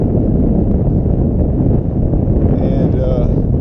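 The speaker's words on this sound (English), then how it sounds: "it's a little windy" Strong wind buffets the microphone outdoors on open ground with plants, a loud, constant low roar with a brief faint voice rising through it near the end.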